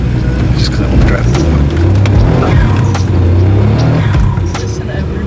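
A Daihatsu Mira accelerates hard on a street, its small engine buzzing loud and close with a steady rising drone and a few sharp bursts over the top.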